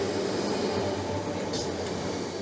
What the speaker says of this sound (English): This train's a semi-fast to Houghton.